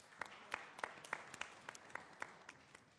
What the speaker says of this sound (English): So, Roopa Kudva, can we have a round of applause, please?